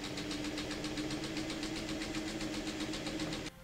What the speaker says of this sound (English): We're going to sew down one side and then we are going to flip it around and sew it down the other side.